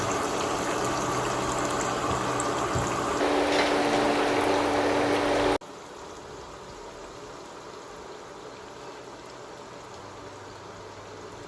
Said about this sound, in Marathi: तसेच आपण बाकीचे कटलेट देखील तळून घेऊयात